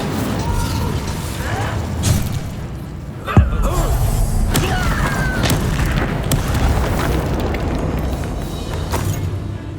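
An Incendio fire spell is cast in the video game Hogwarts Legacy, a single sharp burst over a constant rumbling bed of game ambience and scattered mechanical effects.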